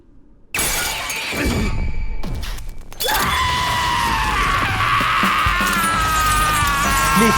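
Anime characters in a Gachiakuta episode scream loudly and continuously after a sudden crash and shattering burst, harsh sustained shrieks filling the clip.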